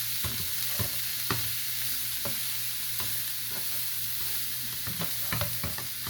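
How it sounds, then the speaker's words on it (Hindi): Shredded cabbage sautés in a pan with a steady low sizzle, stirred now and then with sharp scraping taps spaced irregularly through the clip. "अब इसको हम सौते करेंगे थोड़ा सा, ये सॉफ्ट हो जाएगी"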